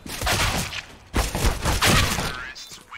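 Gunfire in the CS:GO video game, several clustered shots and impacts in quick bursts, loud and close, with game noise filling the gaps.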